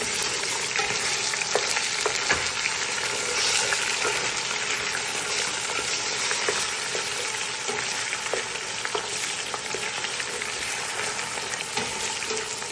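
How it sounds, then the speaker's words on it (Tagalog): Tomato paste stirred in a hot pan, a continuous loud sizzle and crackle with occasional scraping taps of the utensil, no talk. "At ngayon, add ko na itong tomato paste. Mix ko lang siya ng konti."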